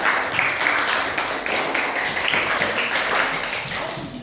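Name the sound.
classroom applause for a student group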